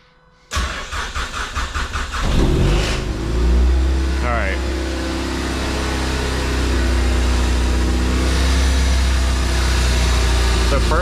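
Zenos sports car engine cranks with rapid starter pulses, catches with a loud rising rev, then settles into a steady, even idle that runs on close by.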